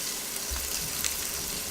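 Pork steaks for a pork sugo sizzle as they hit the hot pot, a short burst of steady frying hiss with a faint clunk, close and alone.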